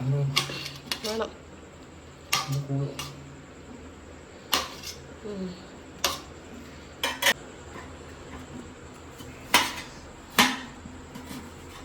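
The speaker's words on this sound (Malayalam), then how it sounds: "ഇനി നമുക്ക് കുറച്ച് സർലാസ് ഉണ്ടാക്കാൻ വേണ്ടി ഇങ്ങനെ തക്കാളി അരിഞ്ഞുകൊണ്ടിരിക്കുകയാണ്" A knife chopping tomatoes on a cutting board for a salad in a home kitchen, giving sharp, irregular knocks spaced a second or two apart, fairly close, with a steady low background hum.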